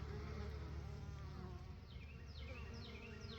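Dense swarm of bees buzzing steadily at a hive in a northern apiary, a close, continuous drone that holds at an even level throughout, with no one speaking.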